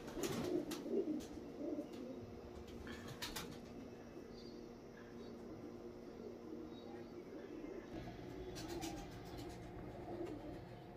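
A female pigeon coos softly in a series of low, repeated calls, with faint wing flutters and other birds in the background.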